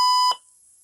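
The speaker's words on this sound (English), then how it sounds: "sound was actually this piezo trying to say left and right." Piezo buzzer on a Maker Pi Pico board giving one short, sharp electronic beep that cuts off abruptly, close and fairly loud with no talk.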